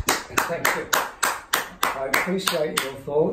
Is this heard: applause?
yes